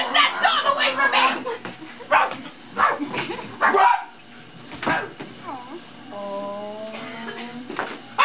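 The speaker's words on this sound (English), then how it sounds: "Get that dog away from me!" A dog barks and yips in short, sharp bursts while people talk loudly nearby, ending with a few whimpering, whiny calls.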